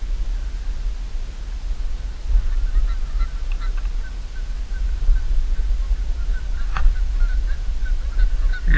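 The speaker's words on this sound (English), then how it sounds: "Some geese come." Geese honking as they fly over an outdoor fishing spot, a series of calls building through the middle and strongest near the end over steady wind and water noise.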